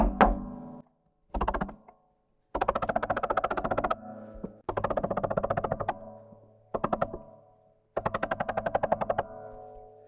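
Sharp chisel strikes knocking out a filled hole in a 1975 Guild guitar, arriving in separate bursts of rapid, hard knocks with short pauses between them, close and loud with no voices.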